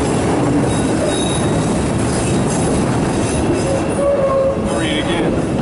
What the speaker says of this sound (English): this train got come every goddamn two seconds